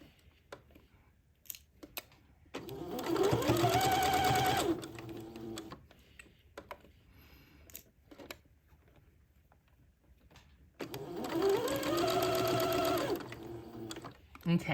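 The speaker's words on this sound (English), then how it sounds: "just sew right to the right of the entredeaux ladder on the batiste." A sewing machine runs a straight seam on batiste beside an entredeaux ladder while lengthening a dress. It sounds as two separate bursts of close, steady stitching, with quiet pauses and faint handling noise between them.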